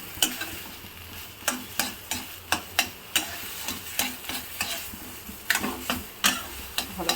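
Fish pieces frying at medium heat in a pan for fish cutlets, a low sizzle under repeated rhythmic scraping and tapping of a spatula against the pan, close and clear.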